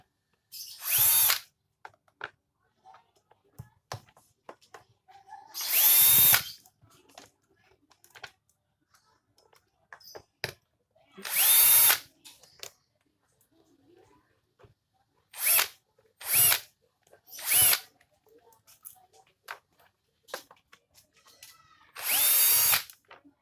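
Power tool zipping out the air filter screws on a Yamaha Aerox 155 scooter during CVT roller service, about seven separate loud, short bursts spaced across the stretch with quiet gaps, close by and without talk.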